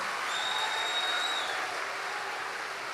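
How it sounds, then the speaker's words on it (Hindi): Loud audience applause at a religious gathering, a dense, even clatter of many hands clapping with a couple of faint whistle-like tones near the start. "जोरदार ताली बजा के त्रिपाठी जी को धन्यवाद दो"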